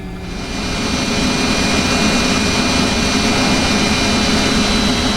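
An MD-80 airliner taxiing toward the runway in the X-Plane 10 flight simulator, its jet engines giving a loud, steady roar and whine that swells in the first second and then holds constant.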